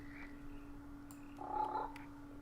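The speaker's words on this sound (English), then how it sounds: "Harlequin toad." A Harlequin toad croaking in the SevTech Minecraft modpack, in a swamp, one short soft croak over a steady low hum, faint and quiet.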